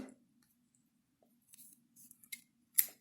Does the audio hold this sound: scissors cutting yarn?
yes